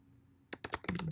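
Burst of quick keystrokes on a computer keyboard as a short command is typed, close and fairly loud after a quiet second, with no talking.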